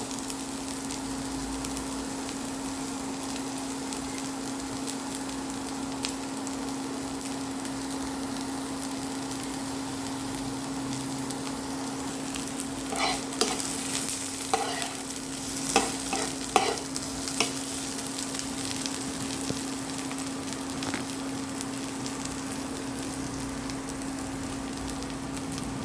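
Onion and potatoes fry and sizzle in a pan while being stirred, a steady crackling bed with scraping and clattering stirs that grow busier and louder partway through, no talk.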